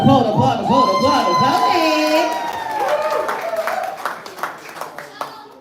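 A live-show audience claps and cheers loudly, with voices calling out over the applause, which gradually thins out toward the end.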